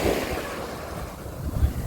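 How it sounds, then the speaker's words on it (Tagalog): Ocean surf washes in with a continuous rushing roar, wind buffeting the microphone, and a low thump as a wave breaks nearby. "Yung hinahabol siya ng alon."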